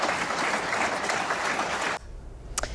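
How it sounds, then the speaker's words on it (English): A round of applause fills a courtroom as an acquitted agent leaves, dense clapping that stops abruptly, followed by a couple of faint sharp knocks in the quiet. "He left the courtroom to a round of applause."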